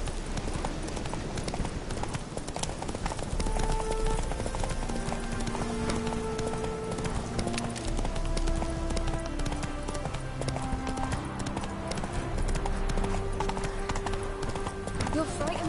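Roach, a horse in The Witcher 3, clip-clops along in a steady, close hoofbeat rhythm that runs throughout, mixed with game music and a brief spoken voice.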